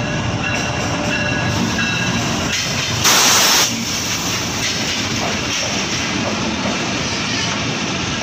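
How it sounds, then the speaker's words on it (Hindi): Train arriving at a station, a steady rumbling roar with a sudden hiss of air or steam midway, loud and close. "यहाँ पे एक ट्रेन भी आ रही है जिसका लाइव एक्शन हम आपको दिखाते हैं"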